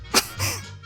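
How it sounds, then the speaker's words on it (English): A single short cough-like burst close by, followed by a softer breathy rasp, all over in under a second. "Did you just cough?"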